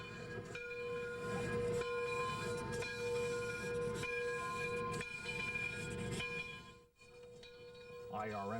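Frisco 1630, a 2-10-0 steam locomotive at the Illinois Railway Museum, running with a steady chuffing hiss and rolling rumble, periodic exhaust beats and a brief whistle-like tone near the end, recorded at a moderate distance.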